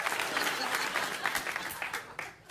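Late-night talk show studio audience bursts into lively applause, a dense wash of clapping that fills the room and tapers off toward the end, with some crowd murmur underneath.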